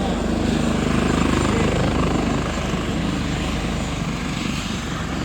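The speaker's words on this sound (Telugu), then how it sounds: "హెలికాప్టర్ వచ్చింది" A Scottish emergency ambulance helicopter arriving, its rotor and engine making a loud, continuous, throbbing roar close by that stays steady throughout, with no voices.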